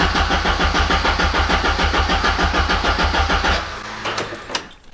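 A Ford Sapphire RS Cosworth engine cranks steadily under the starter but never fires, a loud, rapid rhythmic churning that runs for several seconds before cutting off, followed by a few faint clicks and clunks.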